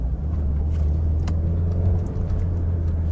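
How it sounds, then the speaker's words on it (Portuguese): A 16-valve car engine hums with a deep, steady rumble close by, rising slightly as it revs, with no voices over it. "mesmo sendo um 16 válvulas, ele sobe de giro rápido"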